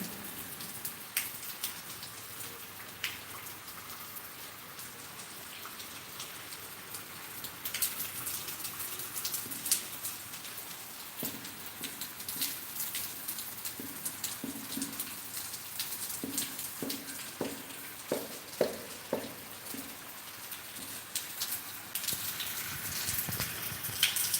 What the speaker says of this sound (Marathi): त्यात पाऊस एवढा छान रिमझिम रिमझिम पाऊस पडत आहे